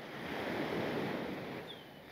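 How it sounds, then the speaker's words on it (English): Ocean surf breaking on an Aruba beach, a broad steady wash of waves swelling and receding close by, with wind buffeting the microphone and no voices. "there are definitely more waves on this part"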